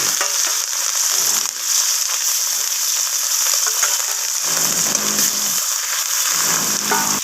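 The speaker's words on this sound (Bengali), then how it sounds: "তো আমি বাকি মাছগুলোকেও ভেজে নেব একইভাবে।" Rohu fish pieces frying in hot oil, a loud, continuous crackling sizzle with occasional brief stirring clatter, close by and steady throughout, with no voices.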